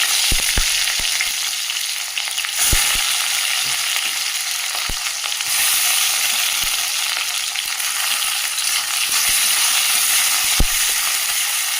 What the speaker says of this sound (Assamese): এইখিনি ৰঙা হৈ ভাজি ল'ম, মানে ব্ৰাউন হোৱালৈকে।